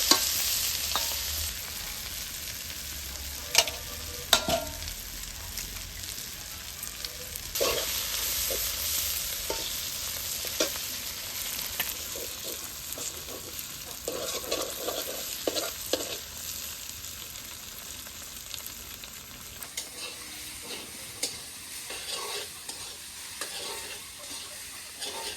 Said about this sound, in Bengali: কবি ভাজি হয়ে গেছে, এবার ডিম দিয়ে দিবি।